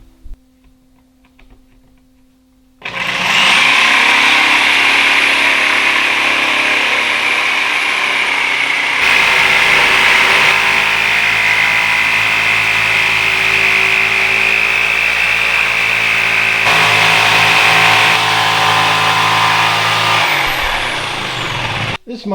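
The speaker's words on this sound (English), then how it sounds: "jigsaw" A jigsaw cuts through a half-inch plywood sheet, starting abruptly after a quiet moment and running as a loud, steady motorized buzz for about twenty seconds before stopping at the end.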